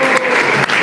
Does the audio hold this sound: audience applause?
yes